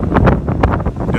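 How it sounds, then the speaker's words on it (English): Strong gusts from Hurricane Matthew buffet the microphone in loud, uneven rumbling bursts outdoors in a storm-damaged neighborhood. "Still kind of windy out here."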